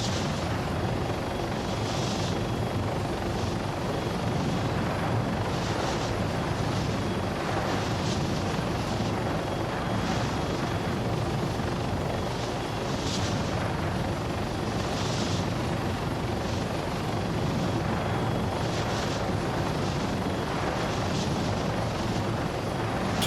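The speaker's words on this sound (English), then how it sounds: "once you get used to it, it's not a bad little helicopter." Helicopter in flight in the video game ArmA 3, a loud, steady rotor thrum and engine roar with faint rhythmic blade chop, continuous and without talk.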